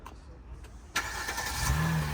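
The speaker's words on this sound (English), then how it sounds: "you can hear the car sort of comes to life" A 2022 Kia Sorento Sport starts remotely from the key fob: after a quiet lull the engine turns over with a sudden broadband burst near the one-second mark, then settles into a steady, fairly close idle hum.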